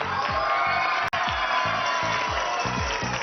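An audience applauds and cheers in a steady, dense wash of clapping and crowd noise. It breaks off abruptly for an instant, and a low rhythmic thumping runs underneath.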